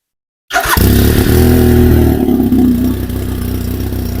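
A sport motorcycle fitted with an Akrapovic exhaust starts up and runs loud and close, settling into a deep, rumbling idle with a steady throaty burble and no voices.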